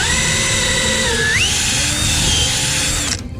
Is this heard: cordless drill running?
yes